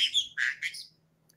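A pet bird gives three short, harsh squawks in quick succession, close and fairly loud, then falls quiet against a faint background hum.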